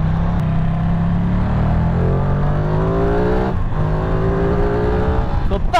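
A 2022 Ducati Streetfighter V2 motorcycle accelerates hard, its engine note climbing steadily through the revs, loud and close, with a brief dip as it shifts gear partway through.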